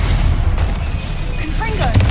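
Stupefy spell cast in a Harry Potter video game during Percival Rackham's trial, a booming magical blast amid dense combat rumble, with faint whistling tones and a voice nearby.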